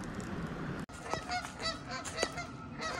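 Geese honk repeatedly at a creek mouth feeding into a lake, a series of sharp calls at moderate distance over steady outdoor background noise.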